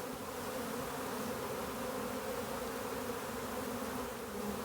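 Honey bees hum around a hive, a steady, dense buzzing drone heard close up without pause, with no voices.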